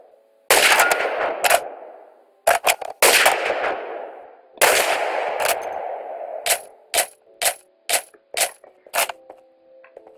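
Gunfire in a video game: around a dozen sharp, loud shots. The first few ring out with long echoing tails, then a quicker series of separate single shots follows, each with a short decay.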